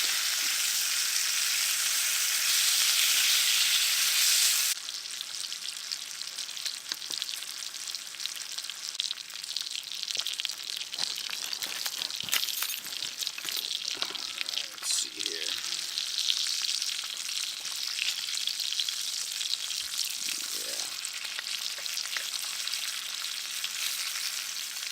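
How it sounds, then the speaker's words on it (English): Bacon fries in a pan with a loud, continuous sizzle and crackle, close and steady, with occasional clinks as it is turned. "Oh, look at that, frying up already."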